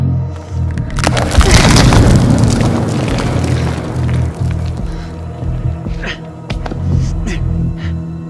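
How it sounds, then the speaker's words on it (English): Gunfire in the horror game House of Ashes starts with a heavy, rumbling boom and is followed by scattered sharp cracks that sound distant. Low hum and faint voices run beneath it. "That's gunfire."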